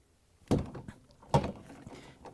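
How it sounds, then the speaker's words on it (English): Two hard knocks on a 24mm ratchet handle, struck to loosen the nut on an LG washer coupling assembly, land as dull thuds about a second apart, followed by faint handling clatter. "I'm going to knock this handle hard to lose the nut."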